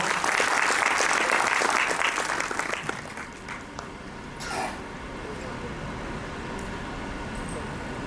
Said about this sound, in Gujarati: ખૂબ જોરદાર તાળીઓ થવી જોઈએ મિત્રો.